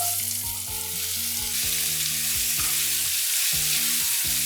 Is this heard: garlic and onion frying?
yes